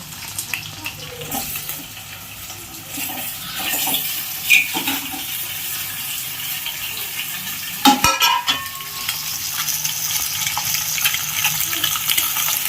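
Pieces of blood fry with onions and curry leaves in a hot pan and are stirred, giving a steady crackling sizzle with scraping and clattering stirs, one sharp clack near the middle.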